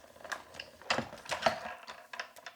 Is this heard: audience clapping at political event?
no